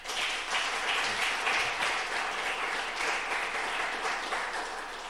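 A church congregation applauds together, a dense wash of clapping that stays steady and full for several seconds before easing slightly at the end.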